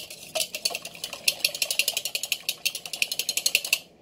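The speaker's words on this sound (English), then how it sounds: "I'll give that a quick whisk." Two eggs are whisked in a bowl for spaghetti pie, a close, rapid run of metallic clicking strokes against the bowl's sides that lasts a few seconds and then stops abruptly.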